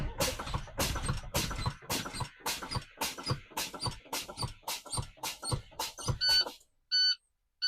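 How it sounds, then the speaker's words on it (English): A truck cab's low air pressure warning buzzer pulsing in a steady rapid series of loud beeps, then ending with a few thinner electronic chirps, heard during a Class A CDL pre-trip brake test with air pumped down to 60 psi. "When I reach 60 psi, the warning alarm and lights should come on."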